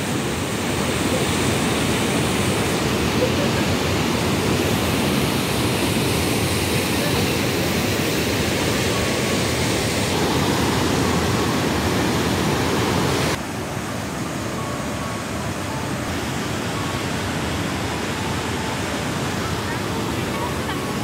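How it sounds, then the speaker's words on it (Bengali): Rushing stream of water in Johnston Canyon, Canada, near the upper falls, a loud, steady roar of churning water that fills the scene continuously, with a brief dip in intensity partway through. "দেখো ওইদিকে জলের স্রোতটা একটু দেখো"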